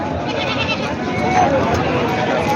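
A goat bleats with a wavering cry amid nearby people talking and a busy background at a large goat market in Parbhani, Maharashtra.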